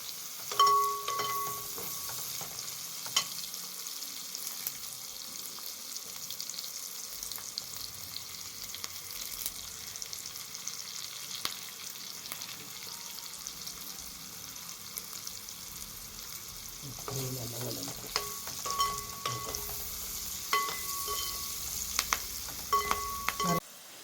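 Green chili, garlic, ginger and curry leaves fry in hot oil for a fish pickle, a continuous sizzle and crackle with intermittent stirring clinks and scrapes, louder spattering near the end.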